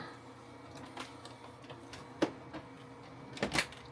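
An Epson 8550 printer running quietly with its hood closed, giving soft mechanical ticks and a few sharper clicks over a low, even hum.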